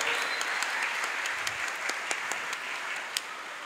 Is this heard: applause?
yes